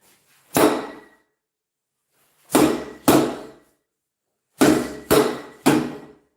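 Sharp wooden knocks of fighting sticks striking something: a single hit, then a pair, then a quick run of three, each loud and crisp with short decay.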